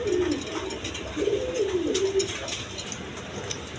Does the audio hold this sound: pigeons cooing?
yes